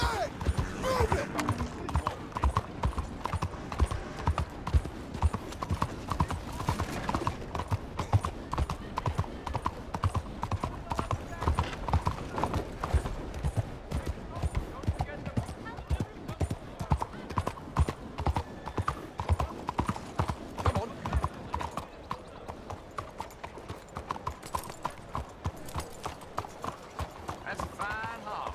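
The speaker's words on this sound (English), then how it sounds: "That's a fine horse." Horse hooves clip-clop in a steady, brisk rhythm on a rainy evening ride into Saint Denis in Red Dead Redemption 2, close and continuous throughout, with occasional voices talking over them.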